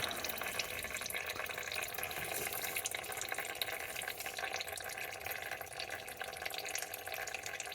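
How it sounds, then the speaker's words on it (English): Transmission oil drains through a straw from a 2014 Nissan Sentra, heard as a steady, continuous trickle of liquid that holds at a low level for the whole stretch, with no talking. "So now I'm draining in the straw."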